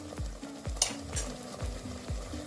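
Masala spice paste with hing, garam masala and turmeric fries in a pan for a village chicken curry, stirred with repeated rhythmic scrapes of a spoon over a soft, steady sizzle.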